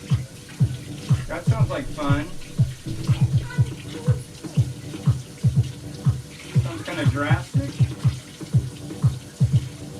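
Cold tap water runs steadily while cooked green tea soba noodles are rinsed, with close, rhythmic splashing and clatter under ongoing conversation.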